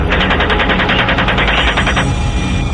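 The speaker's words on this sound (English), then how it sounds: "Keep shooting." Sustained loud bursts of automatic machine gun fire in a US Army combat engagement, a rapid continuous rattle that cuts off near the end, with no talk.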